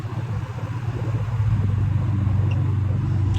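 A vintage Air King PL 20 E box fan runs on low, giving a steady close-up airy hum with a low motor drone that swells slightly midway and then holds constant, with no voices.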